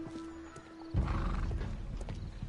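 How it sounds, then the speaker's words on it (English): In the Sherlock Holmes: The Devil's Daughter video game, a horse gives a clear whinny, then heavy hoofbeats and a louder neigh follow, close and prominent with no speech. "Another poor horsey horsey."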